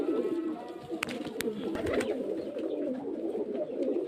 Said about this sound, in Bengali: অনেক পায়রা আছে ঘরের মধ্যে